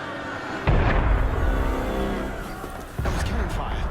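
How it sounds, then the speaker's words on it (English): Two heavy booms of cannon fire roll out in Assassin's Creed Unity, the first sustained and rumbling, the second a sharp blast near the end, with voices under the noise. "That was cannon fire."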